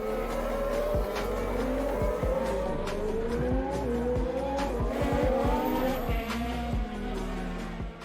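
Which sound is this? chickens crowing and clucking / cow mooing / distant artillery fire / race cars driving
race cars driving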